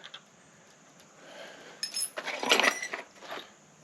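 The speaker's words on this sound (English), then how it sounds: "Set of keys." Metal keys from a boxed Reliabilt combination deadbolt lock set jangle and clink softly as they are lifted out during unpacking, a brief cluster of light chiming rattles close by.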